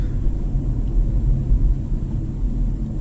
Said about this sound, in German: Ja, und jetzt hört man, wie der Motor zuschaltet